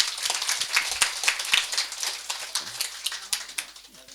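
A round of claps from an audience at a pyramid meditation centre's anniversary event, scattered and uneven hand claps, moderately close and fairly quiet, building into an irregular patter that thins out toward the end.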